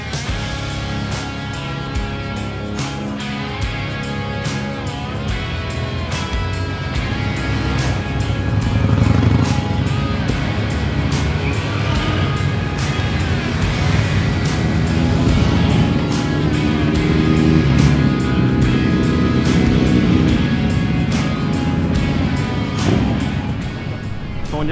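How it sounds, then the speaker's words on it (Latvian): A group of about 30 motorcycles sets off together at the start of a 500 km ride to Latgale, and their engines blend into a loud, continuous, layered roar that swells as the bikes pull away, with no voices rising above it. "Mēs esam nolasījušies rītīgi daudz moči."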